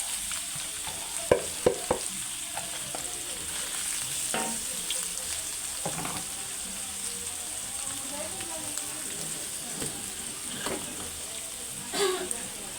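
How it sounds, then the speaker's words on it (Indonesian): Chicken pieces for a risol filling hit a hot pan and are stirred, giving a steady broad sizzle with scattered utensil scrapes and clicks, close and continuous. "Lalu kita masukkan ayamnya."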